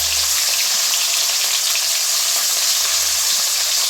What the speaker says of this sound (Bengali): তো বাকি মাছগুলো আমি সেমভাবে ভেজে তুলে নেব